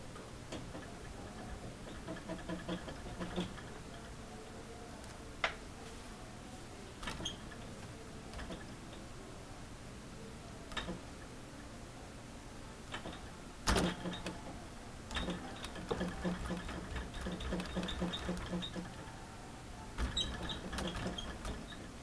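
MacBook Pro and Dell E6500 laptops being shaken to test hinge wobble, giving off quiet, irregular plastic ticks and rattling clicks over a soft room hum, some clicks sharper than others.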